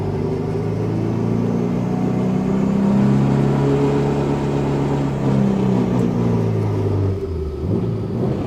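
A BMW G30 sedan pulls hard in second gear, its engine drone rising with a loud, angry whine from the differential running steadily throughout, close and continuous.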